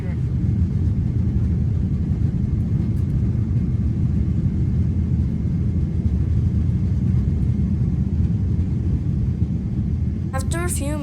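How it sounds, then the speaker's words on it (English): A Cathay Pacific airliner on its takeoff run, heard from inside the cabin as a loud, steady low engine roar and rumble that continues throughout, with a brief chime near the end. "we went on the touchscreen TV and looked on the plane camera as we started to take off"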